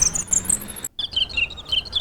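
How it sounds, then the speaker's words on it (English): A cricket sample chirps in quick, high, regular pulses, a short burst followed by a brief gap and then a second run of chirps, clean and alone at moderate volume. "Can we play the crickets?"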